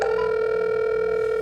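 A phone line rings out steadily while a call is placed, a loud, close, sustained electronic tone with no voices over it.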